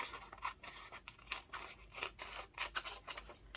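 Scissors cut the paper frames out of an old book with a quick series of soft, close snips and rustles in a steady rhythm, heard alone and quietly.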